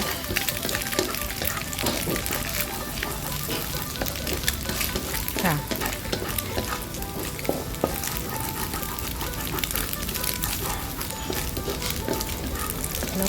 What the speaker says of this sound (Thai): พอกระเทียมเริ่มหอมเราเราก็ เอาไปผัดรวมกันเลยนะคะ กับไข่กับเห็ดหอม